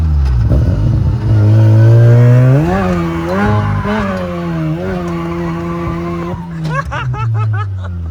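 A BMW E36 drift car fitted with a 13B rotary engine revs hard in second gear, its loud, rising engine note climbing and wavering, then breaking into sharp choppy bursts at the end.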